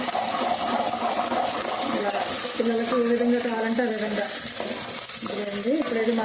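Chicken pieces frying in a pan for a raw mango chicken curry, a steady sizzle throughout with stirring, and a voice talking over it.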